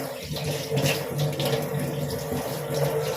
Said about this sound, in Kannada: ಮತ್ತೆ ನೀರು ಇಟ್ಬಿಟ್ಟು ಹೊಸ್ದಾಗಿ ನೀರು ಹಾಕೋದು